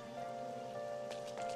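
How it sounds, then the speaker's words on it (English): Rain falling steadily in the video game Persona 5, a soft continuous patter under a quiet sustained musical tone, fairly faint. "because it's raining."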